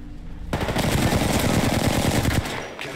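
Sustained automatic gunfire in the battle royale game Apex Legends, a dense rapid burst of shots lasting about two seconds, loud and close, then cutting off abruptly.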